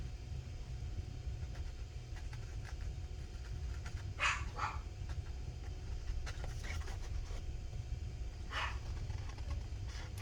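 A dog barks faintly in the distance, a couple of short barks at a time in two brief bursts, over a steady low background hum.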